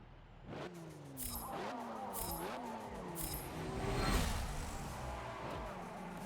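A Porsche Panamera in a racing video game at the Nurburgring, its engine revving up and down through several rising sweeps at moderate volume, with no voices over it.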